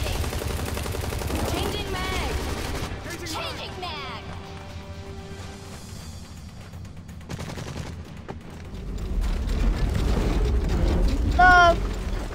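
Bursts of gunfire from the shooter game Hazard Ops crackle and rattle in rapid volleys, with a heavier barrage near the end, while players talk over the shooting.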